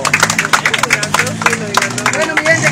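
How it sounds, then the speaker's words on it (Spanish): Applause from an audience at a street rap performance, heard as a patter of hand claps mixed with loud voices and crowd chatter close by. "gracias por los aplausos"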